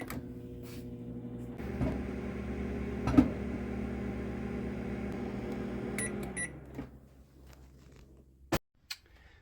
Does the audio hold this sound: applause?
no